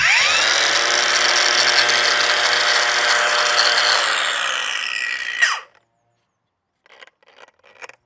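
Corded DEVETECH AG-560W angle grinder runs steadily at high speed and is held under braking load for about five seconds, then cuts off abruptly; faint clattering handling noises follow near the end.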